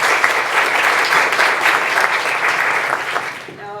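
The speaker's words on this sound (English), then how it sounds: "If we all give them a round of applause." An audience at a National Merit breakfast claps for a student's parents, steady dense applause filling the room for several seconds before tapering off at the end.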